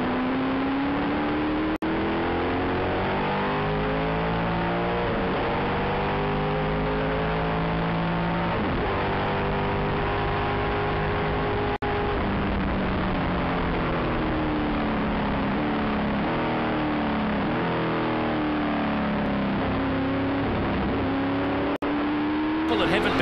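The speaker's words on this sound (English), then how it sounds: "And Ken Smith gingerly works his way around the Rock FM Avon City Ford sweeper and down the front straight once again." A Formula 5000 racing car at the Lady Wigram Trophy runs down the front straight in the wet. Its engine note rises and falls through gear changes, steady and fairly loud, with a commentator talking over it.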